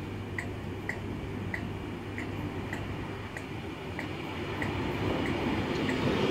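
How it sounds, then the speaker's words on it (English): A Virgin train on the West Coast Main Line at Motherwell rumbles steadily, with a regular clicking rhythm from the wheels over the rail joints that grows slightly louder toward the end. "the final train of the day is going to be the 21:44 Virgin train service to Glasgow Central from London Euston"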